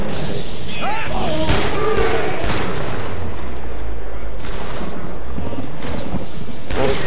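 Rapid bursts of video-game gunfire and booming shots, fairly loud and dense, with voices talking over the action throughout.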